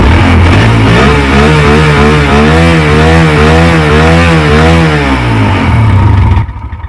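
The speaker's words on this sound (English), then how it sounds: "That's the rev on my Kawasaki." A 2017 Kawasaki 140L motorcycle engine revved hard, a loud close rasp whose pitch climbs, holds high, then falls back before cutting off abruptly near the end.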